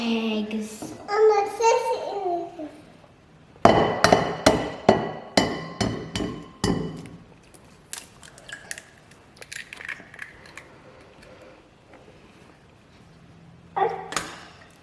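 Eggs are cracked for homemade muffin batter, a quick run of sharp taps and cracks following a voice, then scattered softer clicks and a final tap with talk.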